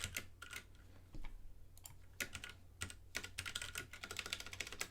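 Quick bursts of typing on a computer keyboard, close up, with irregular key clicks and short pauses between runs.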